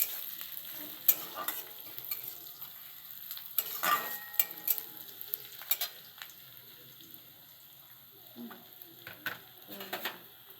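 Chopped onions fry in a pan, with a steady soft sizzle broken by scattered scraping stirs and light utensil clicks, close and moderately quiet throughout.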